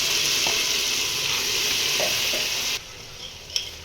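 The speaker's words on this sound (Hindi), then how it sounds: "ये टमाटर डालते हैं।" Tomato and garlic paste hits browned onions in a hot pan, giving a loud steady sizzle with stirring scrapes that suddenly drops to a quieter hiss, followed by a single clink.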